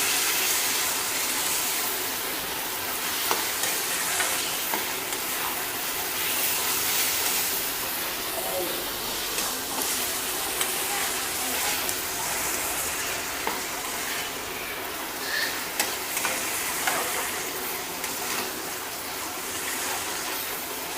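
Marinated chicken pieces fry in hot oil in a pan for kaju chicken curry and are stirred steadily. A constant close sizzle and hiss runs under repeated scraping stirs, and nobody talks.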